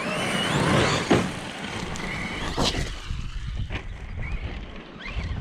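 A Team Corally Kagama XP 6S RC car drives outdoors, its electric motor whine and rolling noise rising and fading amid steady wind buffeting on the microphone, with no talking.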